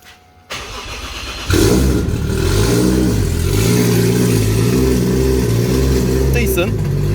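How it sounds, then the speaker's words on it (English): A Toyota Chaser with a new side exit exhaust and a few air leaks cold-starts: the starter cranks briefly, then the engine catches and settles into a loud, steady, close idle with slight rev wavers. "She doesn't like the cold starts."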